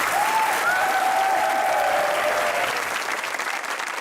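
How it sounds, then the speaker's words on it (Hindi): A studio audience at a Pakistani comedy talk show claps steadily and loudly, the thick even applause holding for several seconds before easing slightly toward the end. "तालियां बजती रहनी चाहिए।"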